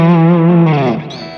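An electric guitar played through channel 3 of a 1967 Prune Music modified Bassman amp rings out as a single sustained, distorted chord with rich harmonics, then slides into a brief shifting tone as it fades.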